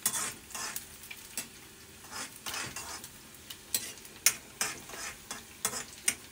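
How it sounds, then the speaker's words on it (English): Onions frying in oil while a spoon stirs them in the pan: soft steady sizzling under repeated sharp scraping clicks of utensil against metal, close and fairly quiet, with no talk. "And it will take a few minutes to get the onions browned."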